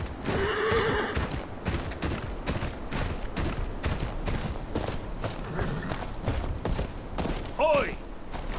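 In the Game of Thrones video game, horses neigh loudly and hooves clip-clop, with sharp percussive hits throughout and a second whinny near the end, over a busy game soundtrack.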